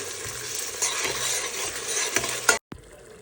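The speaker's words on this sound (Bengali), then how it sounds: "মশলাটাকে সুন্দর করে কষিয়ে নিচ্ছি" Whole garam masala, chopped onion, garlic and bay leaf sauté in hot oil with a loud, close crackling sizzle and stirring scrapes, then the sound cuts off abruptly and resumes much quieter.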